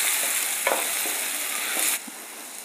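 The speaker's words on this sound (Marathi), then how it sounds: "धने पावडर, हळदी पावडर, व्यवस्थित असं तेलात परतून घ्यायचे सगळे मसाले" Coriander and turmeric powder with green chillies sauté in hot oil for soya bhurji, a steady close sizzle with a few scraping stir strokes, easing slightly toward the end.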